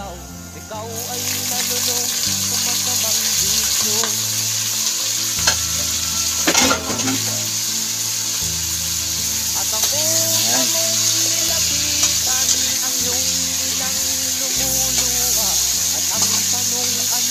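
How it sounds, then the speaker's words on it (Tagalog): Shrimp frying in hot cooking oil for a sautéed shrimp dish, a loud steady sizzle with stirring scrapes and one sharper burst midway, running throughout. "So medyo ipakagat muna natin siya sa ating cooking oil guys, no? Na medyo mag konting prito"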